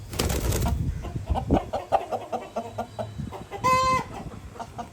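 Aseel chickens, a breeder hen and a young rooster, cluck and call repeatedly at close range, with one louder drawn-out call near the end and no talking.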